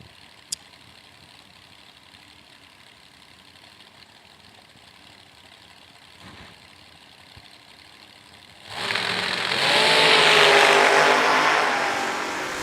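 At a drag strip, a long stretch of quiet low ambience suddenly gives way to the loud, rising roar of two drag race cars tearing down the track.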